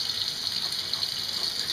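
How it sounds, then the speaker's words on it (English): Water gushes steadily from a laundry tub tap being run until hot, a continuous close splashing hiss with no pauses. "I turn the water on and I run it till it's hot."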